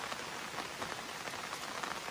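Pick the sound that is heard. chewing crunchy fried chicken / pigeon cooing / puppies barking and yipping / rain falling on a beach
rain falling on a beach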